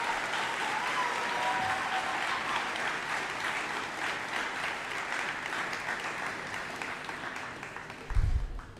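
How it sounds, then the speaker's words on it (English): A school awards-night audience applauds for its administration, steady dense clapping filling the hall for several seconds before tapering off with a brief low thump at the end. "a nice round of applause for our administration"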